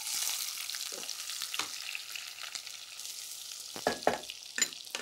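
Sliced small shallots dropped into hot oil for a tempering while cooking rajma pulao, sizzling steadily and close with a few stirring scrapes and clatters.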